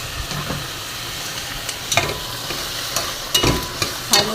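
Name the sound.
chicken frying and stirred in pot for soup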